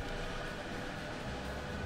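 A train in the railway management game Railway Empire, heard as a steady low rumbling drone with faint rolling texture, continuous and even throughout.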